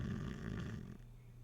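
A person imitates snoring, making a single faint, drawn-out throaty rasp that fades at the end, quiet and alone.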